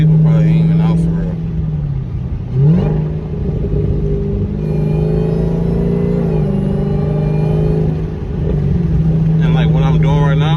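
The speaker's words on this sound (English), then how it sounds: "I'll tap on the gas a little bit like this, and then the RPM's high, and all I do is play with it" A car wearing an SRT badge holds its engine at high revs, a steady, droning rumble that rises and dips slightly as the throttle is played, with someone talking over it throughout.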